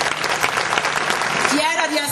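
Audience applause in a town square during the final evening of an Italian singer-songwriter festival in Isernia, a dense steady wash of clapping lasting the whole stretch, with a voice speaking over it toward the end.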